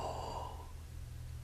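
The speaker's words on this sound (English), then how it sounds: "Whenever we pout and breathe in, let's yawn." A breathy yawning in-breath taken while pouting, as part of a flute embouchure breathing exercise, heard once near and fairly loud, fading out after about half a second over a low steady hum.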